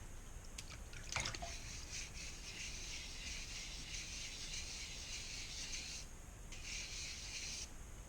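Wet sanding a coaster by hand with 400 grit sandpaper and water, a steady soft rasping rub that runs continuously at close range, briefly pausing near the end before resuming.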